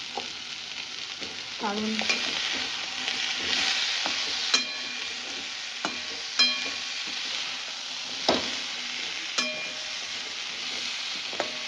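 Pumpkin frying with shrimp in a pan sizzles steadily at close range, with scraping stirs and sharp clacks of a utensil against the pan; a brief spoken word is heard.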